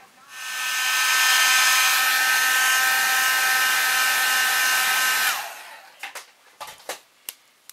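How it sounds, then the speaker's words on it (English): A hair dryer blows with a loud, steady whirring hiss for about five seconds, warming a glued part of a soft vinyl figure kit, then shuts off, followed by a few light clicks and taps. "I'm going to use the air dryer on it"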